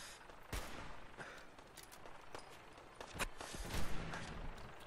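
Gunfire in the video game Fallout 4: scattered sharp shots crack out at irregular intervals over a steady noisy background, some louder and closer than others, with no voices.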